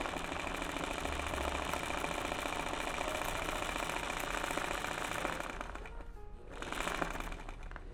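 A sewing machine stitches free-motion zigzag embroidery in a hoop, a fast continuous mechanical clatter heard up close, with a short dip and change in pace near the end.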